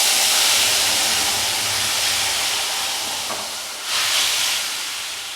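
Curry poured into a hot pan of fried desi catfish sends up a loud, steady sizzling hiss that dips briefly and then surges again near the end, with no talk.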